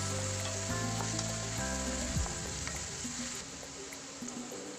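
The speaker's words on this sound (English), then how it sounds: "Add in fennel seeds 1 teaspoon, onion 1 finely chopped, 1 slitted green chilli. Saute them well till onion turns slight brown." Finely chopped onion, fennel seeds and a slit green chilli sauté in hot oil, a steady close sizzle and crackle with a faint tonal hum beneath it, no voices.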